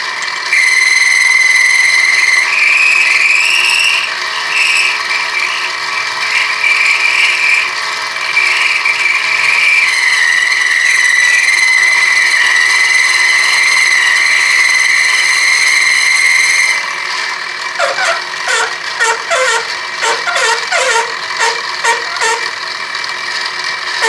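A milling machine plunges a cutter into a red aluminum spacer plate block for a 383 Chrysler engine, a steady loud whining, grinding machining sound that shifts later into rapid rhythmic chattering cuts.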